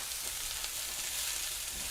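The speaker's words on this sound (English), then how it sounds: "All that moisture from the peppers and the onions and the mushrooms just sizzling." Peppers, onions and mushrooms sizzling loudly in a hot pan without oil, a constant crackling hiss with no talking.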